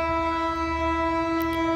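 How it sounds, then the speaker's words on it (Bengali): Bandhan Express, the Khulna–Kolkata train running with Indian LHB coaches, heard as a loud sustained horn tone held steadily, with no talking. "খুলনা থেকে কলকাতা বন্ধন এক্সপ্রেস ট্রেনটি চলাচল করে"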